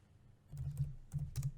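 Keys clack on a computer keyboard in a few quick bursts while someone types into a word-processor text box, close and fairly quiet with no voices.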